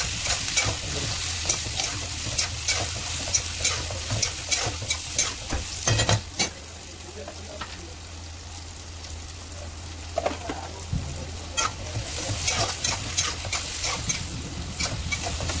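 Onions fry in oil with bay leaf, dried red chilli and cumin for chicken kosha, a dense close crackling sizzle broken by frequent stirring scrapes and spatula knocks against the pan.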